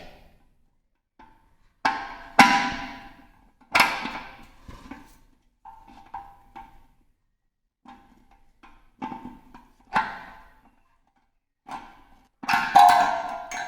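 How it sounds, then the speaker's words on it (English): A flathead screwdriver scrapes and knocks against the metal safety catch of an empty beer keg, sounding as scattered sharp clicks and clanks with quiet gaps between them over several seconds. "I've got my flathead screwdriver that I'm going to put down in line with this safety catch."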